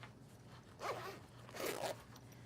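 A zipper on a sewn backpack pocket is pulled in two quick, close zips, the second slightly longer, with quiet surroundings and no talking.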